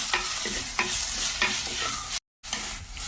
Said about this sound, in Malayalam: നമ്മൾ കിളിമീൻ വറക്കാൻ വെച്ചിട്ടുണ്ട്